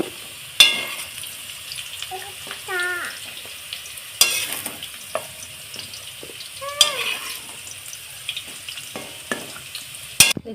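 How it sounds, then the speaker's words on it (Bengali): Potatoes frying in hot oil crackle and sizzle steadily while a utensil clinks and scrapes against the pan as they are lifted out, close by, with birds chirping faintly in the background. "বন্ধুরা আলুগুলো আমি লাল লাল করে ভেজে নিয়েছি এবার আমি তেল থেকে তুলে নেব"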